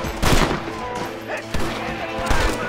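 Pistol gunshots in Red Dead Redemption, three loud sharp reports spaced roughly a second apart, each with a short echoing tail over a busy game background.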